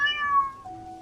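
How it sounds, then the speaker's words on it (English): A single cat meows close up, a clear drawn-out call that slides downward in pitch and fades to a lower tail within about a second, with no other sounds around it. "meowing stops."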